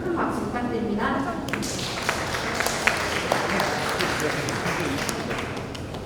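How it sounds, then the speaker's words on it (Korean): An audience at an open-source software conference applauds, a steady, moderately loud patter of claps with a few sharper hits, while a voice speaks at the start. "큰 박수 부탁드립니다."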